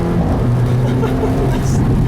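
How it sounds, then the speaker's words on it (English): A 2014 Mercedes-Benz CLA45 AMG accelerates through its upshifts, a steady engine roar that climbs in pitch beneath someone talking over it. "do a little acceleration, because why not?"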